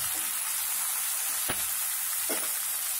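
Onions and tomatoes frying in a pan, a steady bright sizzle with occasional stirring scrapes and clinks, close and alone without talk.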